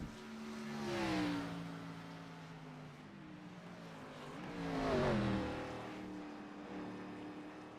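Race cars on a street course in the iRacing video game, engines droning steadily with two passes swelling loud then fading as cars sweep by, revving pitch rising and falling, no voices.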